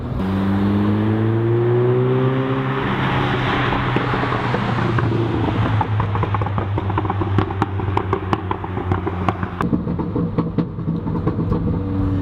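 A car fitted with a Guerrilla Exhaust, heard from outside, revs up and then settles to a cruising drone while sharp exhaust pops crackle in a scattered series near the end.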